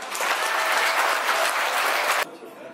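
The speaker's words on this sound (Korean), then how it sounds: "내빈 여러분 큰 박수 부탁드리겠습니다" Wedding guests at a ceremony break into loud, dense applause that holds steady for about two seconds, then drops off abruptly, leaving only faint room noise.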